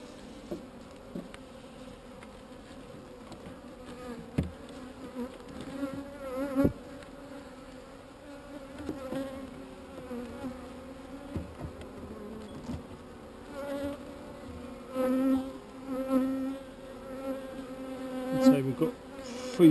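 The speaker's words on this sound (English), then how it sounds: "Lots of bees in this one trying to sting me." Honeybees buzz around an open hive in a steady, close drone, with individual bees whining louder as they pass near, and no one talking.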